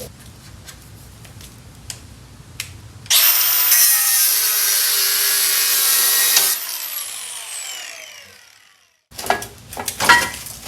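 A power cutting tool slices off a stuck part during a Porsche 914 restoration, a loud, steady high whine for about three seconds that winds down slowly, with scattered clanks and handling noises before and after.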